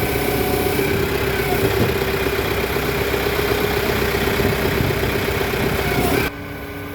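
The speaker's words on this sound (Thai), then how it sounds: "ครื่องยนต์เป็นยูชัยนะครับ" Yuchai diesel engine of a wheeled log loader idling steadily, a loud, even mechanical drone with a constant low hum, running alone for about six seconds before dropping abruptly to a quieter background.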